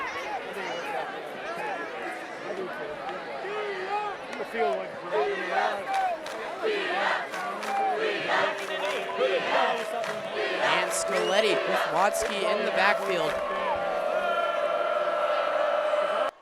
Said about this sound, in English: Lots of noise here from the Thunder crowd by the student section